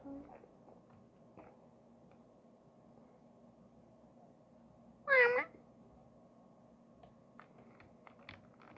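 A kitten gives a single short, high meow about midway through an otherwise quiet stretch with faint background hum and a few soft clicks.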